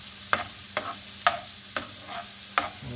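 Garlic sautéing in melted butter in a pan, a quiet steady sizzle broken by about five sharp utensil scrapes and taps at irregular intervals, close up with no voices.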